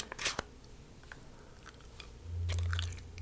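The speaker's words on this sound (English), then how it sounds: "chewing some gum" Chewing gum close to the microphone in a quiet ASMR setting gives soft, irregular wet clicks and crunchy bites, with a brief denser burst of chewing near the end.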